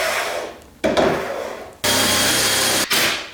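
A power driver whirs in two bursts, driving GRK screws into a wooden garage cabinet up close, with a short pause between runs.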